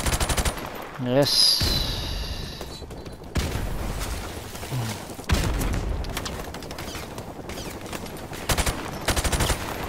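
Automatic gunfire in the Call of Duty Modern Warfare Remastered campaign, near a helicopter: rapid bursts and scattered shots with mechanical clatter, interrupted by short gaps, while a voice speaks briefly over the action.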